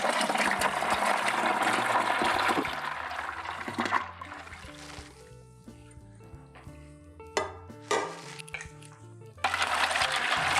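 Hot brine being stirred into ice water for curing a Christmas ham, with sloshing liquid and clinking ice against the container; busy at first, quieter in the middle with scattered knocks, then swelling again at the end.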